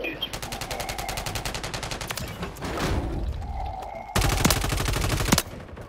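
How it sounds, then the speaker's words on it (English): Call of Duty gunfire, a steady rapid automatic burst of loud evenly spaced shots running almost without pause, then a louder and sharper volley near the end, with background game noise. "I'm shooting."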